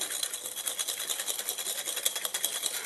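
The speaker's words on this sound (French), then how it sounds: "on va donc blanchir maintenant nos jaunes d'œufs avec le sucre, dans un premier temps. Donc bien mélanger." Egg yolks being whisked with sugar in a bowl, a fast, continuous clatter of metal whisk wires against the bowl, close and fairly quiet, with no voices.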